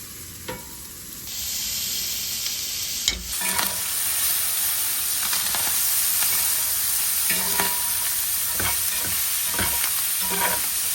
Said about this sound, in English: I'm now going to go ahead and add our ground beef and onions back to the skillet.